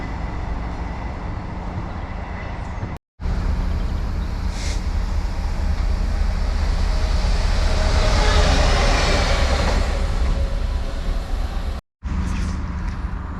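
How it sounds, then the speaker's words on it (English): An East Midlands Railway diesel train bound for Norwich passes at a station, a loud, sustained rumble and roar that swells toward the middle and then fades, with no voices. "Here we have East Midlands Railway going to Norwich."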